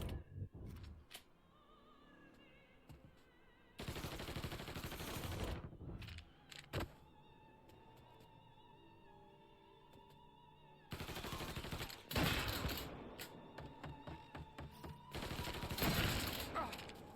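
Heavy gunfire in Mafia 3 bursts out in long rapid fusillades, machine-gun rattles alternating with quieter stretches and a few isolated shots, loud and close.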